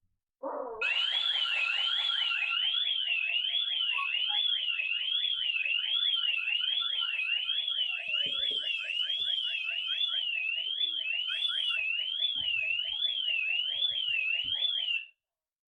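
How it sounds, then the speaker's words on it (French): A loud electronic Ring home security alarm siren warbles rapidly up and down without pause for about fifteen seconds, then cuts off abruptly. "l'alarme retentit immédiatement et la notification ne tarde pas"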